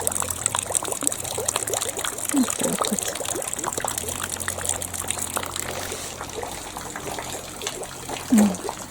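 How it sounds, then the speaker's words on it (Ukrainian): Rainwater drips and trickles steadily outdoors during rain, a close, continuous splashing patter while someone speaks briefly over it. "І ось сюди водичка капає."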